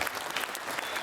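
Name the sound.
audience applause at the Tunbridge fair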